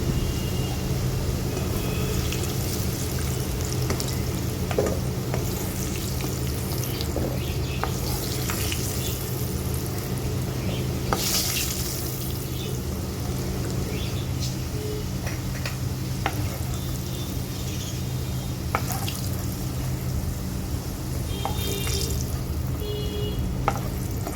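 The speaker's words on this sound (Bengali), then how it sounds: "আলুগুলো বেশ লাল লাল করে ভাজা হয়ে গেছে" Steady sizzling of potatoes frying red in oil for a jackfruit curry, a continuous crackle with occasional stirring clinks and scrapes, close and fairly loud without talk.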